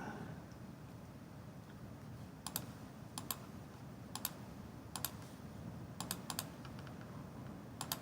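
Keys on a computer keyboard tap in small quick clusters over a low steady background hiss, the clacks crisp and close, with short gaps between bursts.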